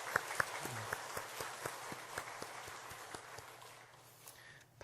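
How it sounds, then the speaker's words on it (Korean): A church congregation applauds during a Sunday worship service to welcome a visiting missionary, with steady claps in a reverberant hall fading toward the end. "한번 우리 박수로 환영했습니다."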